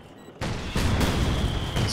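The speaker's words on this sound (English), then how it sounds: "Some anti-tank gunfire." A couple of sharp, loud anti-tank gun blasts from the video game Company of Heroes 2 hit in quick succession after a quiet start, each followed by a rumbling echo.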